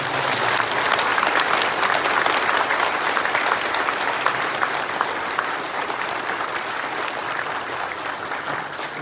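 Loud, sustained applause fills a church dedication service, many hands clapping together in a dense, steady roar that eases off slightly toward the end.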